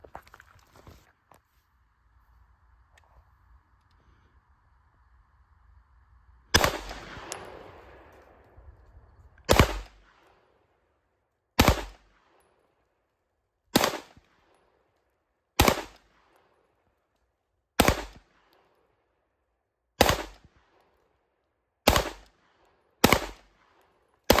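Beretta PX4 pistol firing at an outdoor shooting range in the dark, with ten sharp, loud shots spaced about two seconds apart after a quiet stretch of faint background noise.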